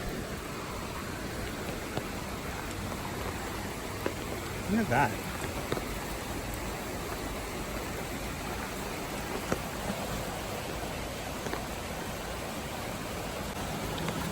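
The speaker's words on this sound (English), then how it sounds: "there really is a creek here" A creek flows near the Heritage Center in Ketchikan, Alaska, where salmon swim upstream; a constant rushing wash of water fills the scene, with one brief voice speaking partway through.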